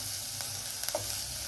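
Onion sautéing in a pan until light brown for paneer masala, a brief steady sizzle with a couple of faint stirring scrapes, close, no voices.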